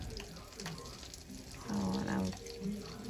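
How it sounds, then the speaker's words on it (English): A kitchen tap running while floury, greasy hands are washed during chicken frying, soft water hiss swelling louder midway, with a person talking over it. "I need to clean my hands real quick"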